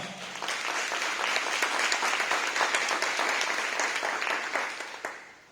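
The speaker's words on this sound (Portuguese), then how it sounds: "Você pode aplaudir o Senhor com alegria nessa hora?" Congregation applauding at a church seminar talk, a dense steady wash of many hands clapping at once, sustained for several seconds before tapering off at the end.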